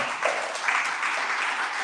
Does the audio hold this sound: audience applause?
yes